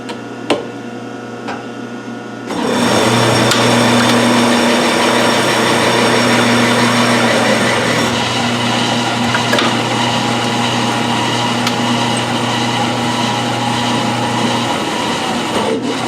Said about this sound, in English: that's how you power tap on the turret lathe